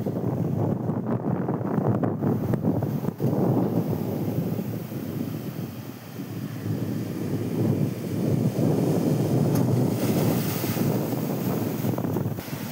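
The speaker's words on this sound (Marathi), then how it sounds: "समुद्राला उधाण आलेलं आहे आणि त्यामुळेच या लाटा गणपतीपुळे मंदिराच्या प्रसाद रांगेपर्यंत पोहोचल्या आहेत" Rough, swollen sea surges at Ganpatipule on the Konkan coast near Ratnagiri, with waves reaching the temple area. The roar is continuous and loud, heavily buffeted by wind on the microphone, with no voices.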